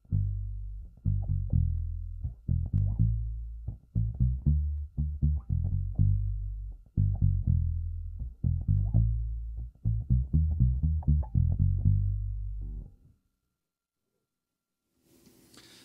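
Palm-muted electric bass played to mimic an upright bass, a run of short, thumpy, deep plucked notes with quick decay, close and steady for about thirteen seconds before falling silent.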